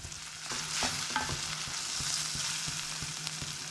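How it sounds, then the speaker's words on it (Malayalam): Ginger garlic paste with curry leaves and green chillies sautéing in a pan over medium to high flame, an even close sizzle layered with repeated scraping and tapping of a stirring spoon, no speech. "അതിൻ്റെ ഒരു പച്ചമണം മാറുന്ന വരെ നമുക്കൊന്ന് വഴറ്റി കൊടുക്കാം കേട്ടോ"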